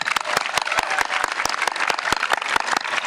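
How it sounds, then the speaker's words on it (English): Outdoors at a fundraising walk, a crowd gives loud, dense applause after speeches, with a few sharp nearby claps cutting through a steady wash of hands. "can we get a big round of applause for all of our speeches today?"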